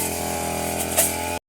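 A grass cutting machine runs in a garden, its engine buzzing steadily at close range for just over a second before cutting off abruptly.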